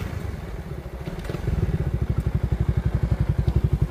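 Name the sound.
Suzuki Raider 150 FI motorcycle in drag race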